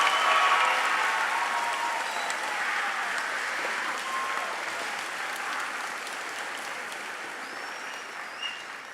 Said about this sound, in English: Let's have a round of applause for our academic award winners.